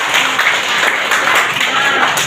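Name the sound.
applause for students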